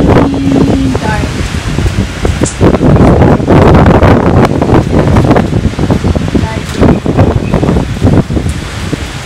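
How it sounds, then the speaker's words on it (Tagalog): Strong wind buffets a microphone outdoors on a rainy afternoon, a loud continuous broadband roar with gusting swells and rustle throughout, with no clear voice over it. "Pero hangin nandyan."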